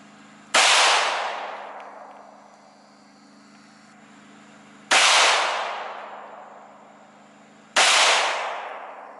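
Three loud, sharp AR-15 rifle shots ring out outdoors several seconds apart, each cracking sharply and then echoing away slowly over a low background hum.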